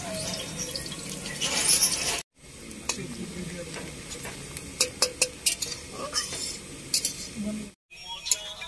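Onions for mutton biryani birista fry in white oil, sizzling steadily up close with repeated clinks and scrapes of a stirring spoon against the pan, broken by two brief silent gaps.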